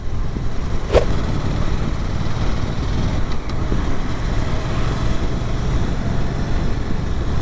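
A car engine idles low and steady while driving at low revs, a continuous rumbling drone heard close and fairly loud, with a brief sharp click near the start and no talking.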